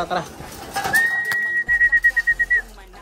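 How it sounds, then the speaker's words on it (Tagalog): Hungry pet pigeons crowd in to be fed, with a sustained whistle and a quick run of rhythmic pulsing flutters and coos up close. "Ito nyo, nagkakagulo sila, mga kalapatid. Mga gutom na gutom."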